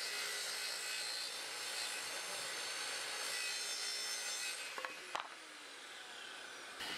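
A saw cuts through plywood in a continuous, close, dense rasping stroke that runs for several seconds, then stops with a few clicks and a knock as the cut finishes.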